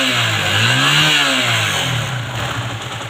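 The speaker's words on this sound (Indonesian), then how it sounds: "Coba digas bang, digas bang, digas bang, gas kuat bang." A Honda CB150 motorcycle engine revving hard, loud and close, with a rising and falling throaty roar that stays strong throughout and dips slightly near the end, with no talking.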